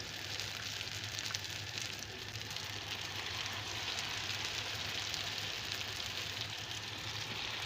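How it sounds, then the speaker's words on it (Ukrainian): Steady hiss and crackle of small potato and mushroom pies frying in hot oil in a pan, continuous and fairly close, with no talking. "Вона вже розігрілася і буду смажити наші красунчики"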